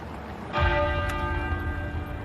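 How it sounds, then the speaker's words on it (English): The great tenor bell of Westminster Abbey tolls once, a deep, ringing strike that starts suddenly and hangs with a long sustained hum, heard clearly with no voices. "the great tenor bell at Westminster Abbey began to toll"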